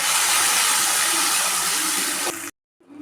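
Water pouring into a freshly washed blender jar while making mint rice: a steady, bright splashing hiss that runs for about two and a half seconds, then stops abruptly, followed by a faint clatter.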